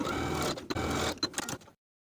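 A sewing machine zigzag-stitches the overlapped ends of swimsuit waist elastic, a close, quick mechanical whirring in short bursts with brief pauses before it stops.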